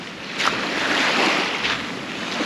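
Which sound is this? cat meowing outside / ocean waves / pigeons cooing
ocean waves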